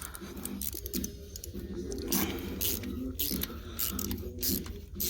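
A tap recutting the bolt threads in a 2003 Tiburon engine gives close, repeated metallic clicks and ratcheting creaks in an uneven rhythm over a low background hum.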